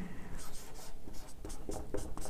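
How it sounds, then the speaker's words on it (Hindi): Chalk or marker scratches across a board during a physics lecture on electric fields, producing quick rhythmic strokes close by, with faint room noise behind. "तो यहां पर पहले हम लिखते हैं"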